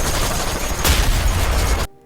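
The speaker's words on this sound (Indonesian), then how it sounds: "bom-bomnya harus ditembak biar meledak" Rapid gunfire from a film scene of sailors shooting floating sea mines at sea, a dense burst of overlapping shots loud and close, with a sharper crack midway, then cutting abruptly to near silence.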